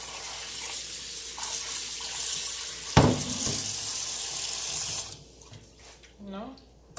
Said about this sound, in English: make sure you rinse your meat.